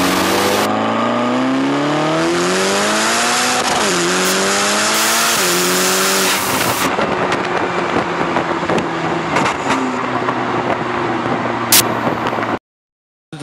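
Ferrari California T accelerating hard, engine note rising in repeated sweeping pulls through the gears with some tire noise, loud and close, then cutting off abruptly near the end.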